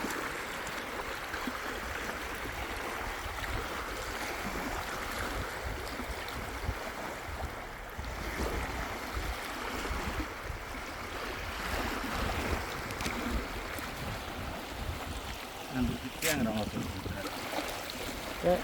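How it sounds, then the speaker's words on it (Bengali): Sea waves roll across the open Bay of Bengal off the Sundarbans, a steady broadband wash of surf and water with a low rumble underneath, continuous and fairly even throughout. "ঢেউ আর ঢেউ।"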